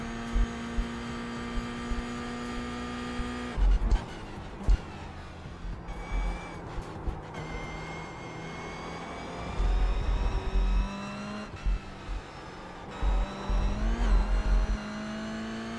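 A race car in the iRacing sim runs with a continuous engine hum broken by bursts of revving and shifting, the pitch rising and falling through corners, heard alone without talk.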